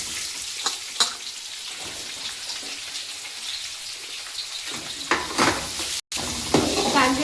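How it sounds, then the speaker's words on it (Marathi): Chopped onions dropped into hot oil alongside peanuts for poha chivda, bursting into a loud crackling sizzle with stirring scrapes that swells sharply toward the end, after a brief gap. "शेंगदाणे झाले, आता कांदे टाकून"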